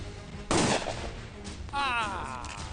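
A single sharp gunshot from a gun in a 2003 Bollywood action film cracks out loudly and briefly near the start, followed by a voice speaking.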